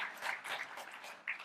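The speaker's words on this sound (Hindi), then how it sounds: "जिन्होंने पूछा उनके लिए ताली बजाते हैं" An audience at a lecture on natural drug development and Ayurveda claps for roughly a second and a half, a faint, steady patter of many hands with no voices.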